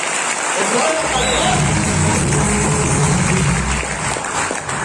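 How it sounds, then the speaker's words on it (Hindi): A crowd at a Jashn-e-Jaguar event in J&K breaks into strong applause for a speaker's teacher, dense clapping swelling after a quiet start, with voices shouting through it. "जोरदार तालियां मेरे गुरु के लिए, जोरदार तालियां।"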